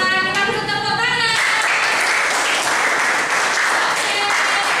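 Dense, steady clapping from a classroom of students fills the room after a brief voiced sound at the start, applauding a student group that has just finished presenting in a chemistry lesson.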